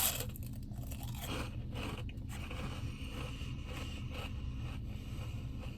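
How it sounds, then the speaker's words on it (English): Someone chews Taco Bell cinnamon twists right at the mouth, a steady run of close, dry crunches and bites with scraping texture throughout. "we're gonna go ahead and taste test the cinnamon twist"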